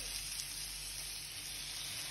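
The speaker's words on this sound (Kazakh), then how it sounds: "араластырып қуырамыз" Eggplant, sweet pepper and chopped tomato fry in oil in a pan with a steady, close sizzle. The hiss stays even and unbroken over the short stretch, with no talking.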